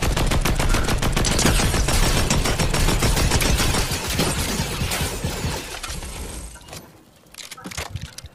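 Rapid gunfire in the video game Fortnite, dense bursts of automatic shots rattling continuously for several seconds, then thinning out to a few scattered shots, with voices talking over the game audio.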